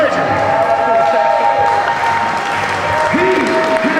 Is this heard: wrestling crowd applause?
yes